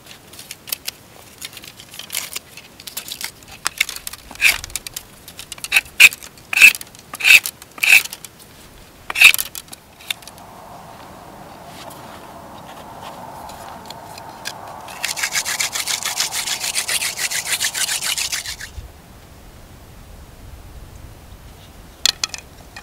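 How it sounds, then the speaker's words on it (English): A willow hand drill spun against a wooden fireboard in the Utah desert, rasping in rhythmic rubbing strokes that build into a steadier, harsher friction hiss before stopping, close and fairly quiet. "I found a piece of willow I'm going to use as a hand drill."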